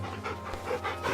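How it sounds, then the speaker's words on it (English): A dog in the Final Fantasy 16 video game panting in quick, steady, breathy rhythm, close and fairly loud over a low game background hum, with no talk. "Hey, pet the dogs."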